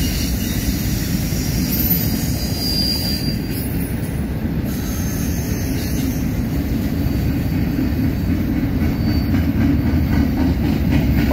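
A freight train carrying military loads, including Bradley armored fighting vehicles, rolls past close by, a loud, steady rumble of wheels and cars with thin metallic squeals riding over the top throughout.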